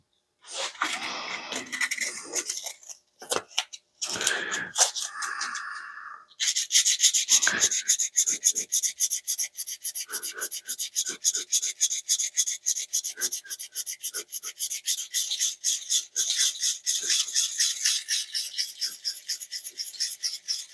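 A CJRB Hectare knife is hand-sanded with sandpaper, a close, steady back-and-forth rasping in quick regular strokes that continue for most of the stretch after a few scattered handling sounds at the start.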